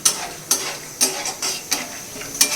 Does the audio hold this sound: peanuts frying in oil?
yes